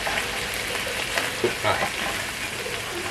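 Thai curry paste bubbling and simmering in a pan for a clean, low-calorie fish stir-fry, a steady close sizzle with faint stirring scrapes and no talking.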